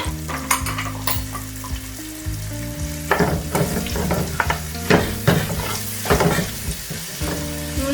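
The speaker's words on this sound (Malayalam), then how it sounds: "ഇഞ്ചി വെളുത്തുള്ളി പേസ്റ്റ് അതും കൂടി ഇട്ട് കൊടുത്ത് നന്നായി ഒന്ന് മിക്സ് ചെയ്ത് കൊടുക്കാം." Ginger garlic paste frying in a pan for chicken tikka masala gravy, sizzling steadily while a utensil stirs it in repeated scraping strokes, close and fairly loud, with no voices.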